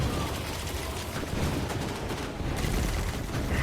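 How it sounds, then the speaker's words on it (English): Pulse rifle firing in the shooter game Destiny 2, dense rapid bursts of gunfire running continuously and loudly with explosive game noise mixed in, no clear talking. "As you can tell, this is a pulse rifle."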